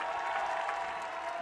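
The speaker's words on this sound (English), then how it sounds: "massive cheer for Carpe, the Murcian rider, coming all the way up" A crowd at a motorcycle racing podium ceremony in Valencia cheers and applauds in a brief, even roar heard from a distance.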